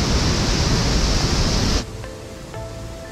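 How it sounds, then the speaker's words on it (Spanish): A loud, steady roar of a waterfall's rushing water, heard while kayaking, fills the first two seconds, then drops abruptly to a much quieter background with faint tonal sounds. "Estoy haciendo kayak en la cascada."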